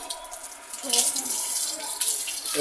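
Water running from a village tap fitted with a small motor while someone washes their feet, a close, uneven splashing and trickling that swells and fades over a few seconds.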